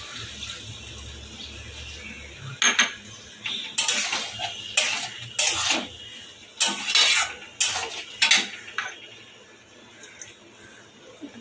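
Banana flower curry with potato being stirred in a pot, a series of sharp spoon-on-metal clanks and scrapes in irregular bursts, fairly close, after a quiet start.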